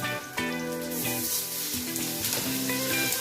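Garlic sizzles in a hot pan, a bright continuous crackle heard close up beneath louder background music.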